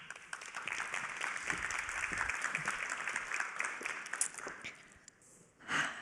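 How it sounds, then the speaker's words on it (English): Audience applause at a high-level meeting on loneliness, a sustained wash of clapping from a crowd that fades briefly near the end before a short final swell. "A big applause."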